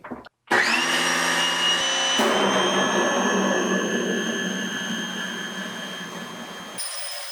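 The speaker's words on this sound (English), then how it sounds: "So I'm going to go ahead and wash out the screen" A pressure hose sprays water in a loud, steady rush, washing out an exposed screen-printing screen. It starts abruptly after a brief pause and roars on for several seconds, with a shift in tone midway, and no talk.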